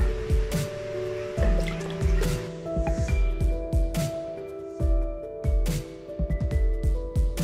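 Cold water poured into a large bowl for a wood apple drink, splashing and dripping steadily up close, with no talking.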